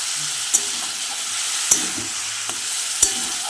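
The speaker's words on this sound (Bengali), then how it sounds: "বিট গাজর আলু ভালো করে ভাজা ভাজা হয়ে গেছে মোটামুটি" Beetroot, carrot and potato fry in a pan, a steady bright sizzle punctuated by a few sharp clinks of a spoon stirring against the metal, close and unaccompanied by speech.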